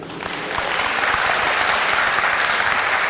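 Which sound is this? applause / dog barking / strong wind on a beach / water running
applause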